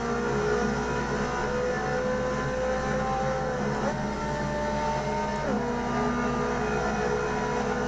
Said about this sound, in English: I don't remember this car sounding like this actually. It sounds more like an F1 vehicle.